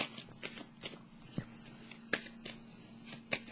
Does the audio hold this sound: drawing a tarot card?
yes